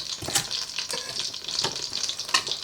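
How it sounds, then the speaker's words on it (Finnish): Fat sizzles in a frying pan with beef for Karelian stew, a steady crackling hiss with irregular pops and spits, close and fairly loud, no talking. "rasva rupeaa tirisemään, siellä kuuluu jo pannusta tirinää"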